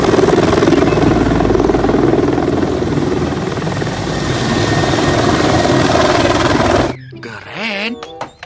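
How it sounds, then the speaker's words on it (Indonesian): A military helicopter's rotor thrums loud and steady at close range for about seven seconds, then cuts off abruptly into brief, quieter, unrelated sounds. "ada helikopter perang."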